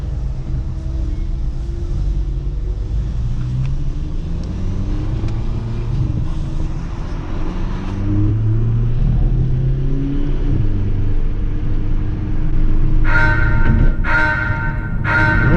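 A rented car drives a lap of the Nürburgring Nordschleife public toll road, its engine a steady, loud in-cabin rumble that builds as it accelerates, with a few sharp clicks or knocks near the end.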